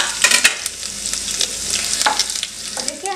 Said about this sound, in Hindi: इसे हम अच्छे से भून लेंगे।